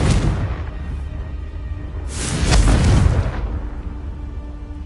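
A Confringo fire spell explodes in Hogwarts Legacy as a loud, broad burst with a rumbling low-end boom that swells and then fades, following an earlier softer blast.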